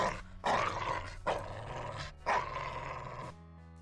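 Three loud, rough growling roars from a dog, each lasting about a second with short gaps between, close and harsh.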